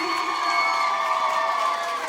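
A crowd at a stage event, with children among them, cheers and shouts in a steady, loud roar that runs throughout without a break.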